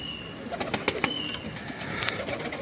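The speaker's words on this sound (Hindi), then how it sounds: "बच्चों के अलावा ये 5 कबूतर हैं दोस्तों।" Pigeons shuffle and flutter nearby with soft cooing and a few sharp bird calls, faint and brief, with no talking.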